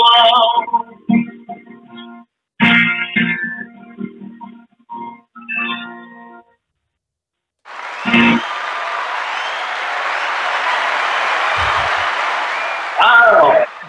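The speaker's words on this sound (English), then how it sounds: "the crowd went wild" A crowd erupts into loud applause and cheering after a stretch of singing or talk, a dense, sustained roar of clapping and shouts lasting several seconds, swelling briefly near the end.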